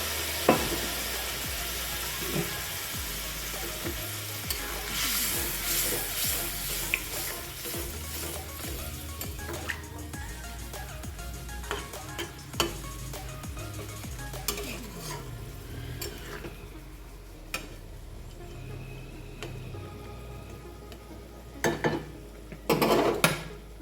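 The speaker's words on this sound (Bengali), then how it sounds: "আমি এর মধ্যে গরম জল ফেলে দিলাম" Hot water hits a pan of mutton-fat ghugni, setting off a loud, continuous sizzle. A utensil stirs and scrapes against the pot throughout, with occasional sharp metallic clinks and knocks, all heard close up without speech.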